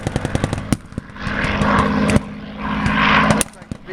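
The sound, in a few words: WWII aircraft strafing the battlefield at a reenactment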